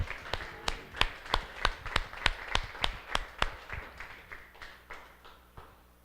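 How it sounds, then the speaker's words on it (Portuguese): A church congregation claps in unison, about a dozen sharp, evenly spaced claps in a steady rhythm that fade slightly toward the end, with no voices over them. "Uma salva de palmas a Deus e a sua palavra."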